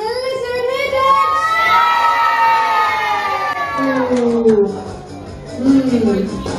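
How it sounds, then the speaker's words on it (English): A holiday park audience of children and adults cheers loudly in long, overlapping shouts of excitement that swell and then fade, with a second burst of cheering near the end. "So give me a big cheer"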